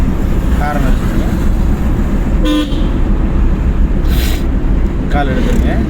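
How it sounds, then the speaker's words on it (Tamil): Car horns honk in short bursts over steady road and engine noise, with a longer blast partway through amid busy traffic, heard from inside a driving-school car. "ஹாரன் அடிச்சுக்கோங்க."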